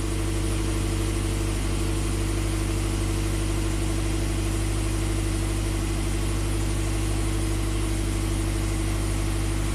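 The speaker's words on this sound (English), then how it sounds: "Seems to run normal. I'll just let it idle, see what happens here." A Scion FR-S/Subaru BRZ engine idles steadily and loudly up close with a low, constant hum and dense mechanical noise; the car has a low-power stumble fault with timing codes P000A/B.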